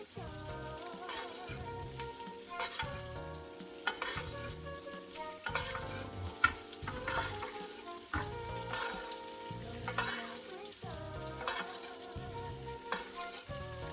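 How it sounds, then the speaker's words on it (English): Monkfish fries in hot butter with a faint background sizzle, largely masked by repeating rhythmic music that dominates throughout. "hot butter on that fish so the butter doesn't burn"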